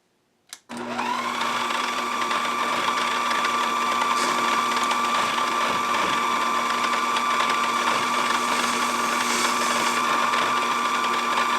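A mini-lathe takes a facing cut with a CCMT carbide insert at close to 1,000 RPM. After a brief click, a steady motor whine with a sharp tonal hum starts and runs unbroken to the end. No one speaks.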